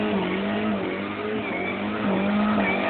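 A drifting car's tires skid and squeal in long, sustained wails over a loud, steady engine drone, close and continuous throughout with no talk.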